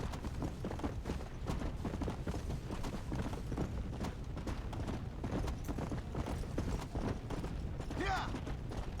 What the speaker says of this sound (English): We've got a horse.